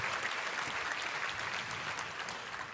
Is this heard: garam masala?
no